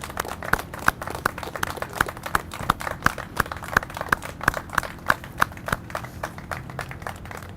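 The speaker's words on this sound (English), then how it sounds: "I ask those in attendance to please applaud and recognize you right now" Applause from those attending a war memorial ground breaking ceremony in Speedway, Indiana: a steady run of evenly spaced, crisp claps from a few hands, fairly close, with no talking over it.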